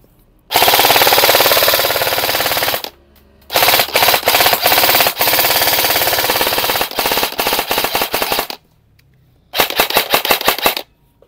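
A Raven Reaper airsoft carbine fires on full auto in loud, sustained rattling bursts of several seconds each, broken by short pauses and a final shorter burst, close up with no talking.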